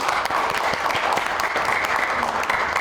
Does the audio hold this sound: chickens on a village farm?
no